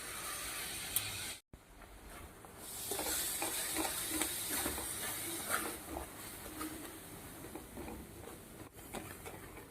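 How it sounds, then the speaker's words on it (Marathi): Thick paan leaf paste with sugar for modak filling being stirred and scraped in a pan, a faint irregular scraping and soft sizzle close by with short clicks of the spoon, no talking. "हे सगळं आता घट्ट होईपर्यंत आपल्याला परतत राहायचे आहे"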